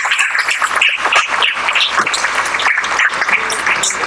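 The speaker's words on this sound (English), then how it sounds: "Please give a huge round of applause." Audience applause at a corporate tax seminar, a steady dense wash of many hands clapping that holds evenly for several seconds, fairly loud and without talk.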